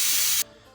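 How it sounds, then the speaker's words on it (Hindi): Steam hisses loudly out of a pressure cooker as its lid is opened after cooking mutton yakhni pulao, a strong burst that cuts off abruptly and leaves a faint fading hiss. "अब ढक्कन खोलेंगे।"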